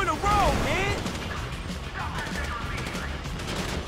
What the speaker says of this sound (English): Shooting our way out of here